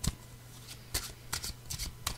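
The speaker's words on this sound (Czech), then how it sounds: "zamíchám si karty" A deck of angel oracle cards shuffled by hand, a few quick riffling bursts spaced out over about two seconds, close and quiet, with no talk.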